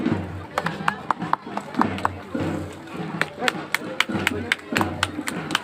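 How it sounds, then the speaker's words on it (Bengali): Scattered hand claps ring out at a school annual winter sports meet in Mangalkot, West Bengal, where guests are honoured at a ceremony. The claps come in sharp, uneven bursts over a steady public-address voice. "সকলে জোরে করতালি দিন"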